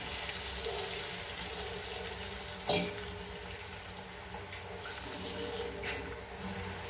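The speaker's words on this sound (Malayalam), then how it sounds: "വാളംപുളി പിഴിഞ്ഞ വെള്ളം ഒഴിച്ച് കൊടുക്കാണ്" Tamarind water pours and splashes steadily into a pan, a continuous watery hiss with a few brief louder spatters, fairly quiet and close.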